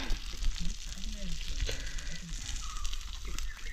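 Fish fries on a roof tile over an outdoor fire in a forest, with a continuous crackling sizzle and scattered pops. Faint voices sit low beneath it.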